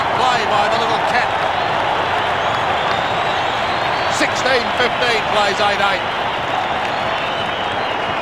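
Large stadium crowd at the MCG cheering and applauding during an AFL State of Origin match between Victoria and Western Australia, a dense sustained roar with clapping, while a commentator talks over it.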